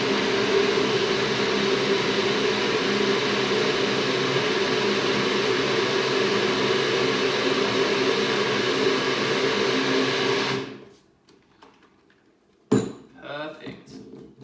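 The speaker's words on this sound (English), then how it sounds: "Alright, let's pop this on the blender." Countertop blender whirring loud and steady while blending a honey smoothie for about ten seconds, then cutting off abruptly, followed by brief clattering and quiet handling sounds.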